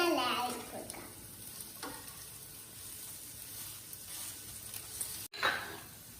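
A banana snack fries in a pan with a soft, steady sizzle, broken by brief scraping swishes of stirring and a louder stir near the end.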